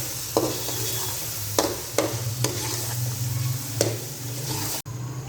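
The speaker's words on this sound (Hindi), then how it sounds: "अब हम गाजरों को करेंगे तकरीबन 2 से 3 मिनट के लिए गाजर और मटर को फ्राई" Carrots and peas fry over medium flame in a pan, a steady sizzle broken by several sharp spatula clacks and scrapes at uneven intervals.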